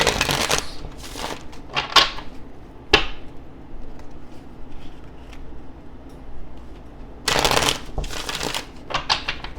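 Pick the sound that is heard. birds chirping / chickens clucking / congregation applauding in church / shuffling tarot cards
shuffling tarot cards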